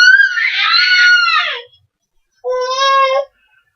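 A child screams twice, loud and high-pitched: a long wavering shriek of about a second and a half, a pause, then a shorter one, with no talking around them.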